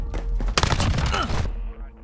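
Rapid gunfire in Call of Duty Modern Warfare, a dense burst of shots lasting about a second amid game noise and a voice.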